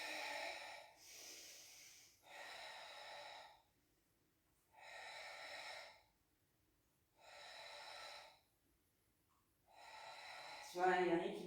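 Long, audible breaths during a Pilates exercise, five slow airy exhales in a steady rhythm with quiet pauses between, close to the microphone, ending in a brief sharper sniff.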